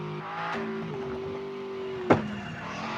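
Engine drone from a racing car in the video game Car For Sale Simulator holds a steady hum, then a sharp loud screech or impact near the end, with the engine tone shifting afterward.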